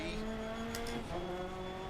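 A rally car engine in Dirt Rally 2.0 drones steadily in second gear, its tone sagging as it bogs down, heard faintly and evenly through the short stretch.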